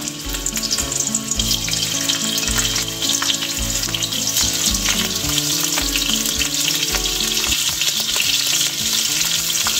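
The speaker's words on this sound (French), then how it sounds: "Nous allons commencer par frire légèrement nos crevettes." Shrimp frying lightly in about three tablespoons of oil in a pan, a loud continuous sizzle and crackle with a steady hiss, close by, while background music plays and no one speaks.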